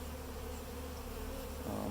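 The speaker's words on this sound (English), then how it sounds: "we definitely have some bees landing on the board and going inside" Honey bees buzz steadily close by as they fly around and land at the entrance board of a Flow Hive, a continuous droning hum that swells slightly louder near the end.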